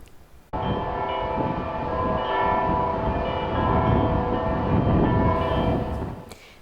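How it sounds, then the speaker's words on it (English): Large cathedral bells peal continuously, their overlapping tones ringing loud and full for several seconds before abruptly stopping, at Holy Name Cathedral in Chicago. "The bells ringing at Holy Name Cathedral this morning."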